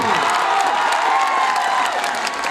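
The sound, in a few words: audience clapping at a live stage show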